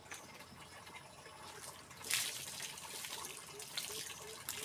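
Free-running water flows outdoors near a mushroom-growing spot, a faint, continuous gushing and splashing with slight surges, heard alone without voices.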